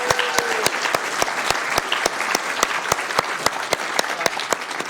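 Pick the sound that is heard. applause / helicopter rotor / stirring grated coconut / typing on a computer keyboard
applause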